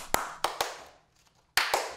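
Hands clap to switch clap lights: three sharp claps in quick succession, a pause of near silence, then two more claps, close and loud with no talking.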